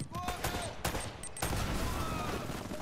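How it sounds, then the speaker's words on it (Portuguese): Rapid bursts of gunfire in the video game Uncharted crackle in quick clusters, sharp cracks scattered over a dense, noisy background, fairly quiet overall. "Os caras atiram e correm"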